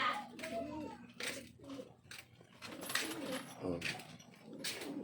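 Pigeons coo softly in a home setting, low throaty calls repeating among a voice and other people talking nearby.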